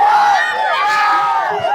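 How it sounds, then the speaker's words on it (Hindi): Outdoors at a Tejashwi Yadav rally in Khagaria, a crowd produces loud, sustained cheering and shouting. Raised voices carry through without pause. "पूर्व उप मुख्यमंत्री तेजस्वी यादव को सुनने के लिए यहाँ पे भीड़ इकट्ठा हुई है"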